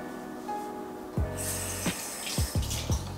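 Tap water runs over blackberries being rinsed, a steady stream broken by several splashing pours and clunks as the fruit is moved under the faucet.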